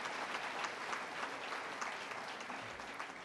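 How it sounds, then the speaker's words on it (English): A crowd at the Harry Jerome Awards in Toronto claps for the recipients, a steady, fairly distant wash of applause that stays even for a few seconds. "give them a round of applause"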